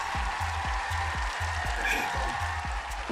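Studio applause for a radio guest joining remotely, a short burst of rhythmic clapping under a talking voice.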